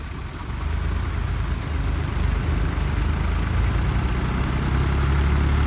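A tractor engine runs near a loaded trolley on soft, unpaved ground, giving a steady, close, heavy low rumble with no pauses and no talk.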